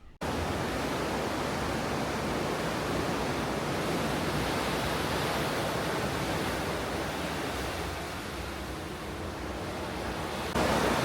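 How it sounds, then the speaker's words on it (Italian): A somewhat rough sea in the Gulf of Alaska, heard from a cruise ship, gives a steady broadband wash of waves and wind. It stays faint and even throughout, with a slight rise in level at the very end. "Siamo ormai nel Golfo d'Alaska, infatti si sente perché il mare è leggermente più agitato"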